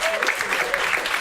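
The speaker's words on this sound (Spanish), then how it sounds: "otra ronda de aplausos a toda la gente que nos ha ayudado a que esto sea realidad." Brief burst of applause from a small meetup audience of UX writers in a Barcelona bar, dense steady clapping at close range with some voices mixed in.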